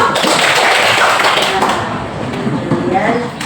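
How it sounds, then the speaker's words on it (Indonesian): Classroom applause from students during a religious lesson, a dense burst of hand clapping that fades gradually over a few seconds. "tepuk tangan dulu"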